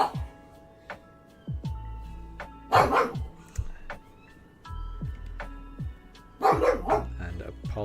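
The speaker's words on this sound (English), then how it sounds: "apologies if you can hear Daruk barking" Daruk the dog barks in two short bursts of several sharp barks, somewhat distant in the room, between stretches of quiet with faint electronic game tones.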